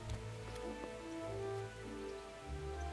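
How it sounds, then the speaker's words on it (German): Rain falls in the video game Kingdom Come Deliverance, a soft, steady patter on surfaces under quiet in-game ambience with faint tonal background sounds. "regnet."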